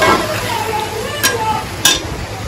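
Masala for a chicken tiffin sizzles in a pan while a spoon stirs it, scraping the metal. The frying hiss is continuous and close, with two sharp scraping strokes standing out near the end.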